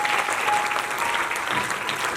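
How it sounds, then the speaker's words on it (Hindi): Loud, sustained applause from an audience at a talent honour award ceremony in Panchkula, steady and dense throughout without pause. "एक बार और जोरदार तालियां बजा दीजिए"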